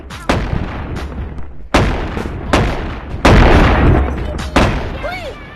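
Shotgun blasts in the video game Animal Company, six loud booming shots fired at irregular intervals, each with a sharp crack and a decaying tail, over faint background sound.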